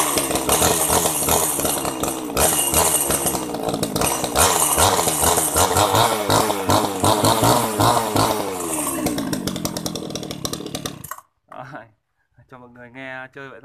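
Komatsu Zenoah G300AVT chainsaw, a Japanese domestic-market saw, running with a loud raspy two-stroke buzz that rises and falls with throttle for about eleven seconds, then cuts off abruptly, followed by brief talk.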